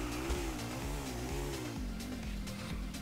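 A motorcycle engine in GTA IV idles and revs with a steady, throbbing hum that rises and falls in pitch, loud and continuous with no talk.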